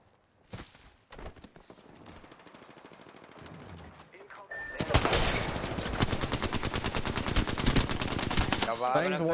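Gunfire in the Apex Legends video game, a few scattered shots, then sustained rapid automatic bursts that grow loud and dense, with a voice speaking faintly beneath the shooting.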